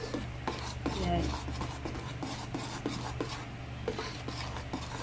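Spoon stirring taro powder into liquid until it dissolves: repeated scraping, rubbing strokes in a steady rhythm over a constant low hum.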